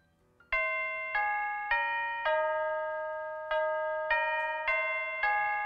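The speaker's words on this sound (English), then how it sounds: "It was the Winchester chimes, which I just really like that for some reason." A Westminster-style Winchester chime doorbell rings out a clear sequence of eight bright, resonant tones in a steady rhythm, each note ringing and slowly decaying indoors with no voices.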